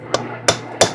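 A hammer taps on a drift to knock out a rear wheel bearing on a Suzuki GS500 motorcycle, giving three sharp, close metallic strikes spaced about a third of a second apart.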